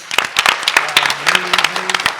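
Sparse, uneven clapping from a small gathered audience at a tabletop role-playing event, individual hand claps near and distinct, with some cheering or voices mixed in.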